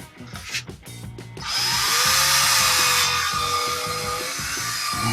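A power drill mixes silicone, starting with a few short bursts, then whirring loudly and steadily up close with a slight pitch drift as the mixture churns.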